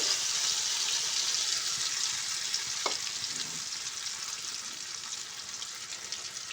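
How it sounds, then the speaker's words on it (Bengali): Beaten egg mixture meets hot oil in a pan, setting off a loud, even sizzle with bright crackling that holds steady and eases off slightly over several seconds. "তেলটা আমার বেশ গরম হয়ে গেছে এরপর আমি এই ডিমের মিশ্রণটা এর মধ্যে দিয়ে দেব"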